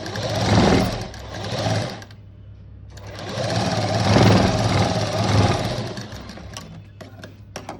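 Sewing machine stitching a boat neck blouse runs in loud, close bursts of rapid mechanical whirring, stopping briefly in a short pause before starting up again.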